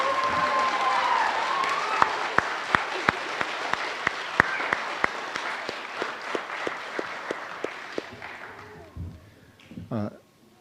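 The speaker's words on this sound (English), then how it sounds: "Give them a round of applause for their first concert here." An audience applauds a high school string orchestra after its first concert, sustained crowd clapping with a few loud nearby claps standing out in a steady beat, fading toward the end as voices murmur.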